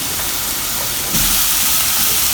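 Moong dal tipped into hot oil with chilies on a low flame, setting off a sudden, loud, steady sizzle that holds to the end.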